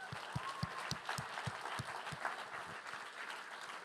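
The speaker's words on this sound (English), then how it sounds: "let's give all presenters a big round of applause" Steady applause from a large audience at a demo day, dense clapping filling the room at an even level throughout, with a few sharper claps standing out.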